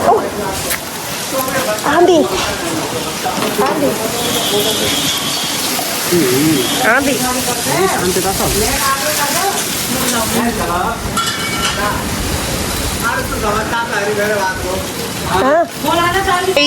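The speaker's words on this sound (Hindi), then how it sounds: "बारिश आ गई" Rain comes down suddenly after dust and wind, a loud, dense, steady hiss close by, with voices talking over it throughout.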